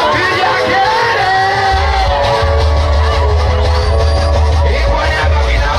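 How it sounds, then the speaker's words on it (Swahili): A crowd of women at an election campaign rally in Nianjema ward shouts and cheers loudly, with whoops and yells blending into a continuous roar over a deep, pounding low rumble. "Wakina mama piga kelele."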